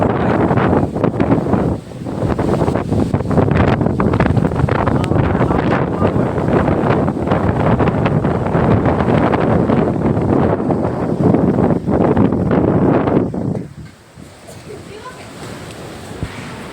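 Windstorm gusts batter the microphone as a loud, steady roar for about thirteen seconds, then ease off sharply into a quieter rush; voices can be heard talking at points.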